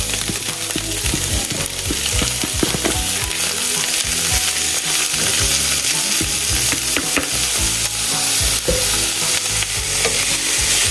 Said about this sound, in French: On va laisser cuire 15 minutes à feu moyen, le temps que les champignons rendent leur eau.